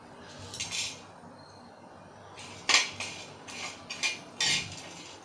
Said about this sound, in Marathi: खडा मसाला घेतलाय तो परतवून घेऊया